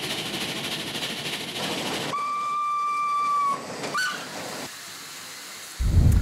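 A steam engine from an 1887 steam car hisses loudly, then a clear steam whistle sounds for over a second, followed by quieter chuffing and a sudden burst of noise at the end.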